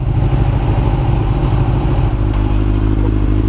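A Ducati 959 Panigale sport motorcycle with stock exhaust rumbles loudly and steadily up close, a deep continuous exhaust note with mechanical clatter and no pauses.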